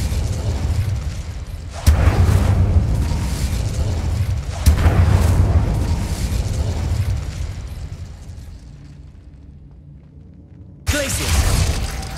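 Incendio fire spell blasts in the video game Hogwarts Legacy, heavy booming bursts that hit hard with a loud onset, roar and fade, then strike again, with a final blast after a quieter lull.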